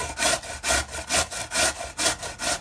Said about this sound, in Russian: Картошку мы почистили, помыли и теперь натираем на крупной терке.